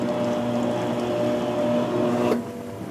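A GE washing machine drum whirring up to spin with a steady motor hum and tonal whine, then cutting off sharply near the end.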